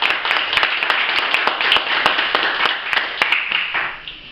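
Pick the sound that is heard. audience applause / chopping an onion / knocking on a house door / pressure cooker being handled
audience applause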